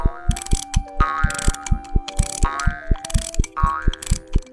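A windup toy pony called Giddy Up Buttercup, built of springs, screws and gears, clatters along in a steady clockwork rhythm, with bright ratcheting clicks and twangy metallic boings repeating close up and loud.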